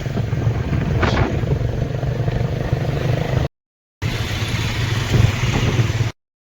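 A motorcycle engine idles close by at a house after a ride, giving a steady low rumble that is briefly cut off and then resumes.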